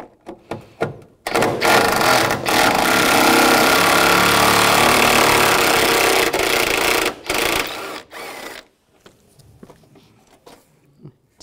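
A power tool with a 10 millimeter socket spins bolts out of a 1999-2006 Chevrolet Silverado 1500 during washer reservoir removal, running in a loud sustained whir with short stops, then falling to quiet handling noises.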